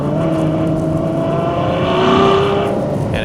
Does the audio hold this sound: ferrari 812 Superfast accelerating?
yes